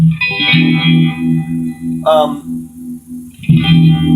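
Clean electric guitar chords through a Digitech RP 360xp Univibe effect and Crate half stack, with a swirling, pulsing modulation, ring out and sustain, with a brief higher strum in the middle.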